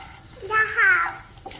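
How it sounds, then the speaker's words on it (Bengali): Water runs from a tap while cut fish is rinsed slowly, a short splashing flow that swells twice. Faint voices sound in the background. "মাছ কাটা ধুয়ে গেছি, যে আস্তে আস্তে ধুইতেছি।"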